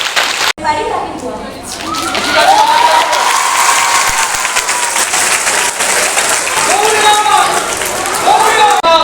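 A crowd of schoolgirls at a session in Haldia, Medinipur applauds loudly and continuously, with sustained clapping throughout and faint children's voices mixed in.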